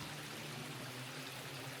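River water flows steadily around someone standing in it at a rally stage, a dense continuous rushing wash that stays close and even throughout, with no voices.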